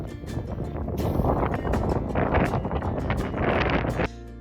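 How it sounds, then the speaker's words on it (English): Cold gusts at Great Sand Dunes National Park buffet the microphone in loud, uneven rushes and thumps, with no voices over the blustery roar. "It was cold and windy, and not exactly what you expect for sand dunes."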